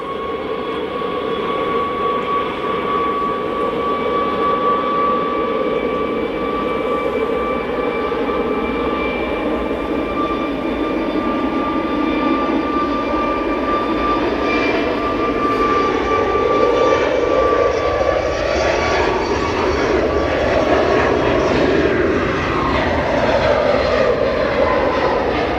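A Boeing 737 Max 8 jet departs for Paphos from Manchester Airport, its engines a loud, sustained roar with a steady whine that shifts in pitch as it powers away.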